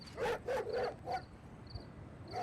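A dog barks several times in quick bursts, then pauses before one more bark, close and clear.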